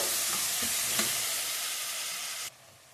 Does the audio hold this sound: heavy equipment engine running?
no